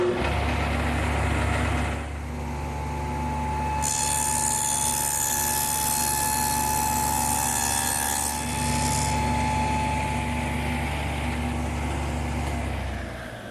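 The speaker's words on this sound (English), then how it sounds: "So now I'll just plow out that dado." A dado head cutter on a table saw plowing a 3/8-inch-deep dado in a slowly fed wooden chair part, a loud steady motor whine that strains and deepens under the cut, close and alone.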